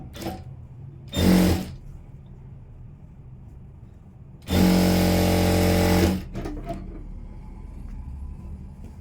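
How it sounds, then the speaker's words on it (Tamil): An electric sewing machine runs in two close bursts, one short and one longer of about a second and a half, stitching the front of a blouse, with quiet pauses around them. "நம்ம இந்த இடத்துல பெரிய தையல் ஒன்று போட்டுடலாம்"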